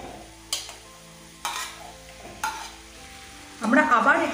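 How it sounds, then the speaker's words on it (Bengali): Squash frying with onion paste and ginger-garlic paste, stirred in a pan: three sharp scraping stirs land at steady intervals over a low sizzle, then a louder, busier burst of frying and stirring closes the clip. "আমরা আবার এটিকে নাড়াচাড়া করে দেব।"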